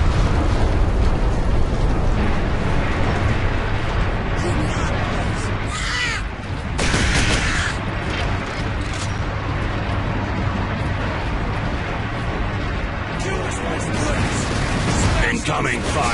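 Gun battery fire and explosions boom loud and near in Warhammer 40,000: Space Marine, with rolling blasts and bursts stacked over a dense battle din. Voices talk over the fighting.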